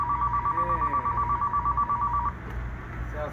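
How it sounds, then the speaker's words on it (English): Landline telephone at a new pizzeria ringing with a steady electronic tone, pulsing continuously for about two seconds before it cuts off, then a quieter background hum remains. "the phone started ringing."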